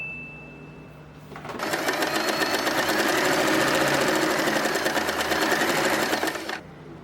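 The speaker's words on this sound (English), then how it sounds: "sew this part" A sewing machine stitches fabric for a bow turban hat, starting after a brief pause and running steadily at a fast even rhythm for about five seconds, loud and close, then stopping.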